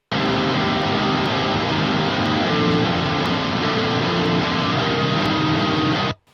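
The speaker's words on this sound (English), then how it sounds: "Yeah, just very distorted, sort of nasty, low-tuned guitars." Dense, heavily distorted guitars grind continuously for several seconds with a thick, harsh wall of sound before stopping abruptly.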